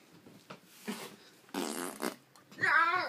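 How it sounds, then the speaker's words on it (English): A fart sounds out among people at play, a sustained raspy burst followed by a shorter one, while voices talk and a high squeal rises at the end. "Oh, yeah, I'm gonna fart now."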